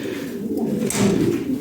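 Lahori Sirazi pigeons coo steadily, with soft, low, throaty calls overlapping close by in a continuous murmur throughout.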